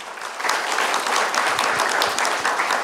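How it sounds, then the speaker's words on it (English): Dense audience applause following a talk on diabetes, steady and sustained with many hands clapping together throughout, fairly close and with no voices over it. "a big round of applause for his insightful speech"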